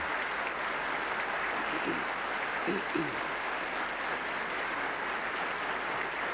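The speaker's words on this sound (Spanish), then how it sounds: "Estos aplausos son para recibir con el Pleno de la Asamblea General de las Naciones Unidas al presidente de la Nación Argentina" The United Nations General Assembly applauds the arrival of Argentine president Raúl Alfonsín in 1984, a broad, distant wash of clapping across the hall with brief murmurs of voices.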